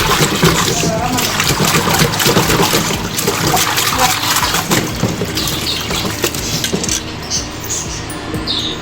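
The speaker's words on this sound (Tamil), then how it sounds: "மீனை அலசும் போது நம்ம நல்லா அடித்து அலசணும்" Cleaned fish sloshed and rinsed by hand in a basin of water, with loud continuous splashing and churning close up that runs through the whole stretch.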